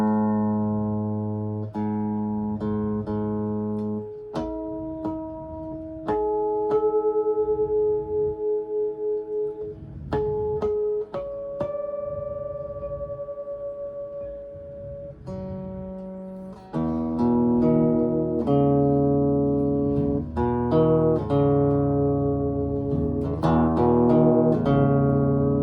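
A guitar being tuned down with a clip-on tuner, with single plucked notes and ringing strings repeated at shifting pitches, followed by fuller strummed chords near the end, close and clear with no talking.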